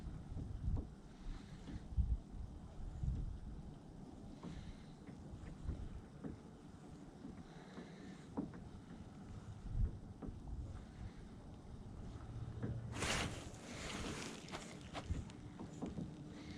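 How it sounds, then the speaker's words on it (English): Wind blowing across open water during a boat fishing trip, a soft, gusty rumble buffeting the microphone with faint knocks and a brief hiss of spray or movement. "Wind."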